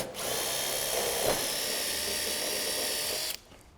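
Power drill driving fixings through the back of a gutter into metal fascia, one continuous high-pitched whirring run of about three seconds that cuts off sharply at the end.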